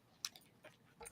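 A dog named Dexter crunching a chew treat close by, a few sharp, brittle crunches spaced unevenly over about a second, fairly quiet with no talking.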